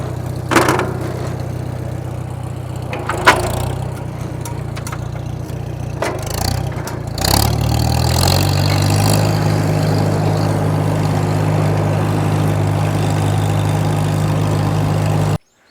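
A tractor engine idles low and steady on a building site for a sawmill shed, then revs up and keeps running as it moves, with a few knocks and clanks early on and no talk.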